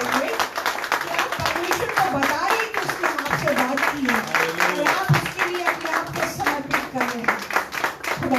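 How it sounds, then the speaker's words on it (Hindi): A church congregation at a Friday service claps together in a dense, continuous burst of applause that lasts throughout, with a voice speaking over it. "खुदावंद के लिए बहुत ताली हो जाए"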